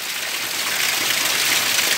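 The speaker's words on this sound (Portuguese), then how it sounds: "Agora sim a chuva tá invernando aí, moço." Heavy rain pours steadily in São Francisco, Minas Gerais, a dense, even hiss of water on surfaces that holds constant throughout, with no voices.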